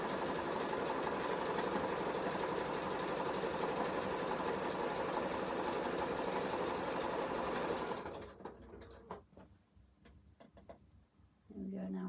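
A sewing machine stitches a stretched lettuce hem, running as a loud, steady whirring drone for about eight seconds before stopping, followed by faint handling clicks and rustles.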